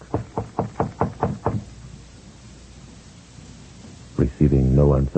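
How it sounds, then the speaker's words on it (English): Knocking on an apartment door in a radio drama: seven quick, evenly paced raps, loud and near, followed by a quiet pause before a voice speaks. "He knocks."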